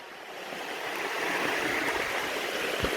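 River water rushes steadily outdoors as a broad, constant hiss that swells slightly louder over a few seconds, with no voices.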